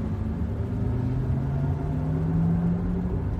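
Low, steady rumble of a Porsche Taycan electric car on the move, with a faint rising drone layered over a continuous road hum, heard from inside the cabin at a constant level.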